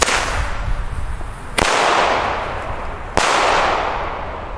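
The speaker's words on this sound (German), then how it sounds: "Hier seht ihr es nochmal, Lidl Flashbang." Weco Lidl Flashbang fireworks from a budget Lidl range go off as three sharp, loud bangs in steady succession. Each bang leaves a broad, rumbling roar that rings on until the next one.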